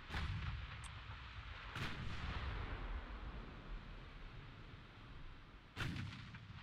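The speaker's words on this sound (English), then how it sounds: "I'm fine firing all these shells because we have tons of aiming" Heavy warship guns fire in the naval game Ultimate Admiral Dreadnoughts, with deep booming artillery blasts at irregular intervals over a constant rumbling sea-battle background.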